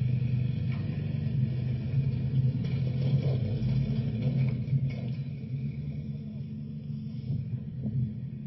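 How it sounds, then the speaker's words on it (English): A truck moves forward through a crash site strewn with smoking debris, giving a steady low engine rumble throughout with faint scattered clicks and knocks over it. "this truck finally moves forward"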